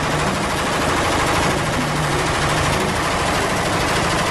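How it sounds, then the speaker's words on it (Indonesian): A toy AK-47 gun fires continuous rapid electronic rattling bursts, loud and unbroken throughout, sounding like machine-gun fire. "Wow, ternyata ini tembak-tembakan AK-47"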